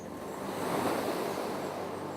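Ocean waves wash in a broad, continuous roar of surf, swelling slightly and then holding steady, with no voices.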